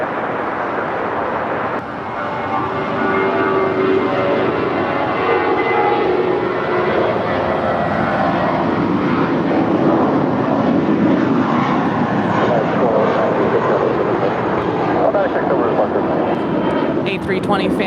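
A heavy airliner taking off from runway 25 left at LAX, a loud sustained jet engine roar that builds and holds for the whole stretch, with people talking over it.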